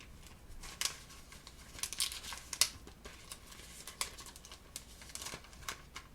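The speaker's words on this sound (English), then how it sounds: "You'll open up your envelope." Paper envelope opened and handled up close, with soft crinkles, tears and rustles in scattered bursts, fairly quiet and with no talking.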